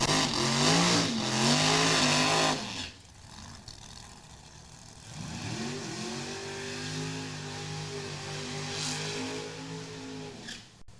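A nitrous-fed Chevrolet Cobalt drag car with a 615-cubic-inch engine at a drag strip: a loud, close engine roar holds, briefly drops, then climbs again in a rising, sustained wail.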